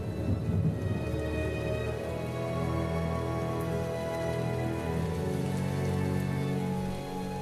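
A thunderstorm pours steady rain onto surfaces, a dense continuous patter with low rolling thunder underneath, fairly close and even in level throughout.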